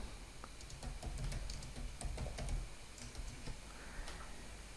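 Computer keyboard being typed on while entering an error message in code, a quick run of close, light key clicks in short bursts, quiet with no talk.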